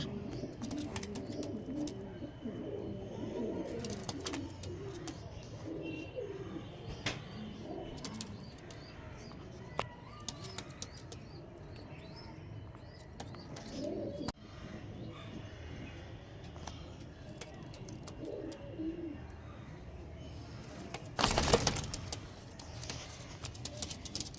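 Old-line pigeons of an old gauge breed cooing, soft repeated low coos from several birds close by, with faint background noise and a brief louder rustle near the end.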